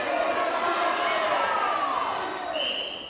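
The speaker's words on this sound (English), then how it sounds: "Some complaints from the crowd" Crowd at a masters mixed netball final at the New Zealand nationals, a loud, sustained wash of voices that swells and then eases slightly toward the end.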